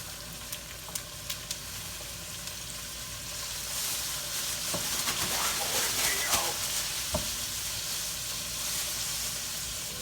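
Oxtails sear in a hot pan with a steady, close sizzle that swells midway, with light scraping and a few soft clicks over the frying hiss.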